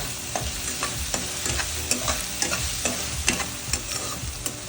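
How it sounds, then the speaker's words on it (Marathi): Chopped onions fry and brown in a pan with salt added, a steady close sizzle with frequent scraping stirs of a spoon against the pan, no voices. "आता आपला कांदा थोडासा ब्राऊन व्हायला सुरुवात झालेली आहे म्हणजे आता छानपैकी गळतो आहे"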